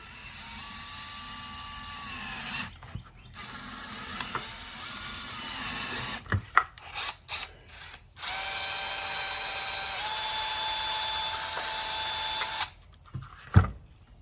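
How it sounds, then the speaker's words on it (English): A power drill bores out holes in two long bursts of steady whine, with a short stop-and-start stretch of brief revs between them and a sharp knock near the end. "let's drill those out."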